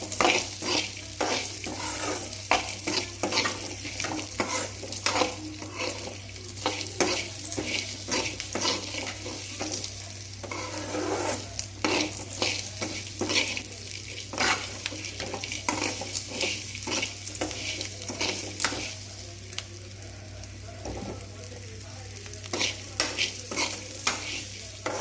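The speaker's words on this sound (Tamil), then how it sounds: "சேர்த்து நல்லா வணக்கி விடுங்க." Ginger pieces and about ten garlic cloves sauté in a pan while preparing a pirandai chutney, a steady close sizzle broken by frequent scraping and stirring strokes throughout, with no talking.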